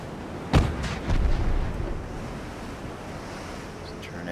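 A warship's big guns fire in the naval video game Ultimate Admiral Dreadnoughts: one sharp, loud report, then a rolling boom that fades into wind and ocean surf.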